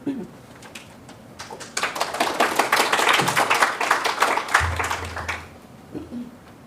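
An audience at an academic talk on digital visualization of Holocaust spaces breaks into dense, steady applause that swells for several seconds and then fades, with brief voices before and after.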